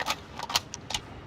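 Weapon reload in Call of Duty: Modern Warfare, a quick series of faint metallic clicks and clacks about a second long.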